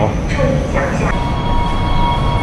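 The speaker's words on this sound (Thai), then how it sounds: "เดี๋ยวเราก็จะไปขึ้นเมโทรกันนี่สายหลักครับ" Harbin metro train running, a steady loud rumble of the carriage in motion with faint tonal whine, continuous throughout with no clear pauses.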